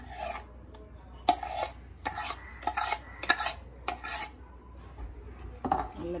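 Ground coconut masala is stirred into a pot of chickpea curry, a spoon scraping and rasping against the pot in a series of separate strokes, close and clear with no talk.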